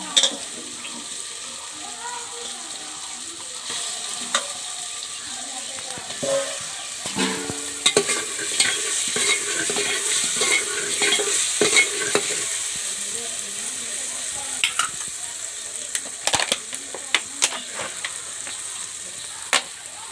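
Small tomatoes dropped into frying chicken curry set off a crackling sizzle with irregular pops and utensil clicks, rising and falling over about twenty seconds, with brief faint voice now and then.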